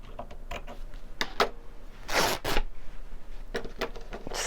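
Material being ripped for a craft journal: a run of brief scratchy tearing bursts, faint and close, with a louder rip near the middle and a few quieter tears after it, no talking.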